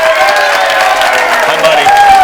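A studio audience applauds and cheers as a young boy and his mother are welcomed on a talk show, loud and continuous, with whoops and a voice rising over the clapping.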